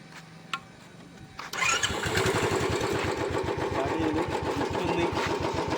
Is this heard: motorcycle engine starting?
yes